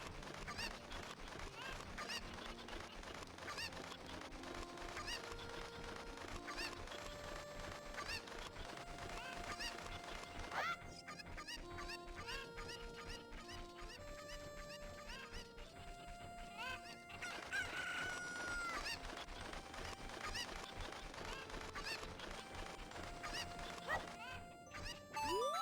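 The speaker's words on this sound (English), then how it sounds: "Suppose they might be cuckoos, but I've always called them cuckoos." Cuccos from the Ocarina of Time video game cluck and squawk over steady, busy game music, the bird calls faint and blended into the melody throughout.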